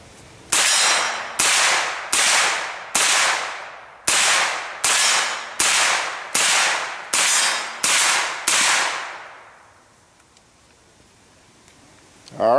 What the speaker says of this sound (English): You've already watched the shooting of the Tavor